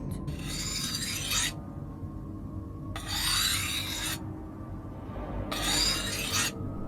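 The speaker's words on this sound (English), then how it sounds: "It sounded like a knife being sharpened." Three slow, rasping strokes of a knife drawn along a sharpening stone or steel, each lasting about a second and separated by pauses, clear and close over a faint steady background hiss.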